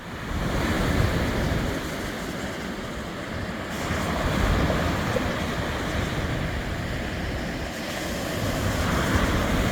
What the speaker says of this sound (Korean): 파도 소리가 너무 예쁘죠?